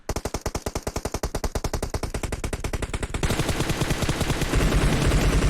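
Sustained automatic gunfire in PUBG Mobile, a long run of rapid, evenly spaced shots up close that blurs into a denser, heavier burst partway through.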